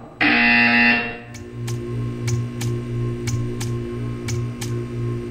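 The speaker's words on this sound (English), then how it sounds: "You will hear a buzzer. When you hear the buzzer, stare at the art." A loud, harsh buzzer in the video game Portal 2 blares for about a second, followed by a steady low hum and a series of regular sharp ticks.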